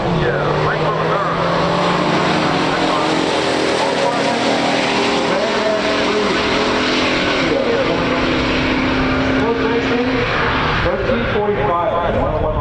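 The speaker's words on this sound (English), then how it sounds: "pure stock muscle car drag race" Loud, continuous engine roar from a 1969 Pontiac GTO Ram Air and a 1968 Plymouth GTX in a pure stock muscle car drag race, dense and sustained throughout with rising revs and no pause.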